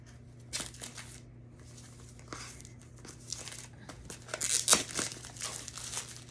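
Close crinkling and tearing of plastic packaging around a pair of scissors, in intermittent bursts that grow louder and busier toward the end, over a low steady hum.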